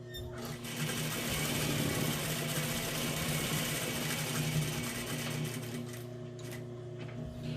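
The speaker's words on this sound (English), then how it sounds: "I always use my flywheel when I'm sewing with a machine." Sewing machine stitching a cushion cover with folk embroidery, a steady close whirring drone with a fast mechanical needle rhythm running throughout, slowing slightly near the end.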